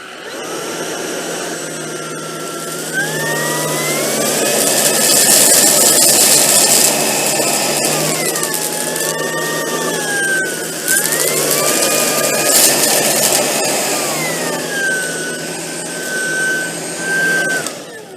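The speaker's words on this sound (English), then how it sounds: "You can certainly hear the suction pickup in auto power mode." A Tineco Pure One S15 handheld vacuum with a mini power brush runs in auto power mode over fine, small and medium debris, its loud whining motor rising and falling in pitch as the suction adjusts, with no talking.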